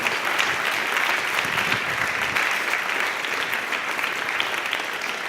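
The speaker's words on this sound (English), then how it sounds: "Why don't we give Pete a round of applause?" Lunchtime audience gives Pete a round of applause, steady sustained clapping from a crowd at moderate distance, even throughout with no voices standing out.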